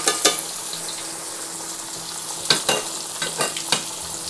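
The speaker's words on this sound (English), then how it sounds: "Take our pork chops. And let them fry up." Pork chops fry in a hot pan, turned down a little, with a constant close sizzle broken by several sharp scraping and clattering knocks.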